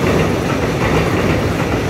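A ten-car EMU900 electric multiple unit local train rumbles past loudly at close range, a continuous roar with rhythmic clickety-clack from the wheels.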